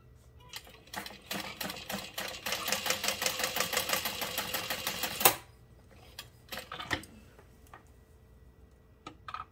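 A sewing machine topstitches a bag connector in a fast, even mechanical chatter that runs steadily for about five seconds and stops, followed by scattered clicks and handling knocks, close by with no talking.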